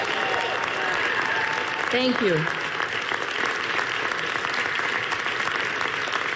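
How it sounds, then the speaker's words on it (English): Crowd at an election night rally applauding and cheering in a dense, continuous roar while a speaker briefly talks over it. "let's give yourselves a huge round of applause for what you've done"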